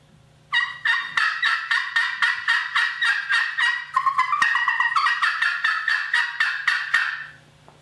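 A wild turkey gobbler gobbling about 250 yards away at a field edge, a loud, close run of rapid rattling notes that goes on for several seconds and then stops.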